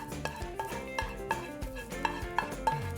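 Parsley being stirred into a pan while cooking tuna filling, with a series of soft scraping strokes and light utensil knocks against the pan in an uneven rhythm, quiet and close.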